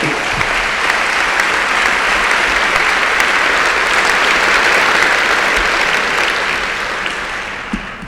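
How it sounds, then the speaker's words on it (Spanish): A large audience at a Galician awards ceremony applauds in a dense, steady wash of clapping that holds for about seven seconds before starting to taper off at the end, with no voices over it. "Para él, un aplauso."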